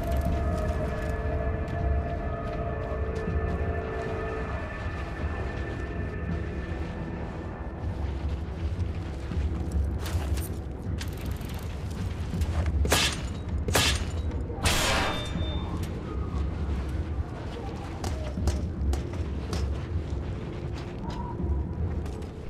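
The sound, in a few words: explosions in the video game Mad Max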